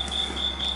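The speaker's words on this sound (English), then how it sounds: "If anybody knows anything good for crickets, let me know. They're driving me crazy." A cricket chirps in short, high-pitched trills, repeating rhythmically and close by over a quiet low hum.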